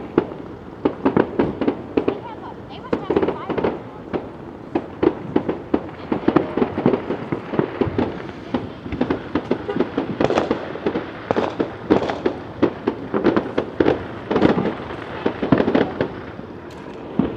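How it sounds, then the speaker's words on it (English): Fireworks burst and crackle in a dense, irregular barrage for a long stretch, with rapid sharp pops of firecrackers over a steady background din at an outdoor summer celebration. "The fireworks are beginning."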